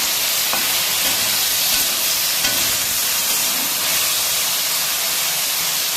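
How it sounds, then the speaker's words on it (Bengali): Okra fries in a pan with salt and turmeric, giving a continuous close sizzle with a few faint clinks of stirring. The hissing stays steady throughout and no one speaks. "এই আমি যে ভেন্ডিটা ভেজে নিচ্ছি এর মধ্যে কিন্তু ভেন্ডিটা সেদ্ধ হয়ে যাবে"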